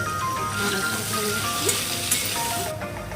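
Mixed vegetable curry with aubergine and lentil dumplings sizzles and fries steadily in a pan, village style, with occasional scraping and stirring clicks over the constant hiss.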